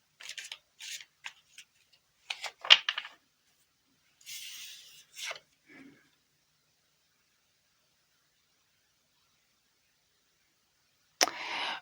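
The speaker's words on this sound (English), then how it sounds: "Just going to give them a good shuffle." Tarot cards being shuffled up close: several short, soft riffling and sliding bursts in the first half, a pause, then one more brief burst near the end, with no talking.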